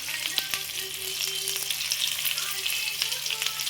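Bitter gourd and onion curry frying in a pan, a steady close sizzle and crackle with a few faint stirring clicks, running continuously without talk.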